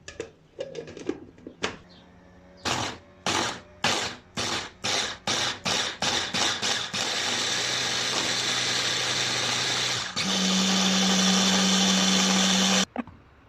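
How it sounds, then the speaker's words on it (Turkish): A blender chopping onion and garlic whirs in loud repeated pulses that merge into a steady grind, then rises to a higher, harsher whine before stopping. "Soğanımızın tamamını blender'a atıyoruz"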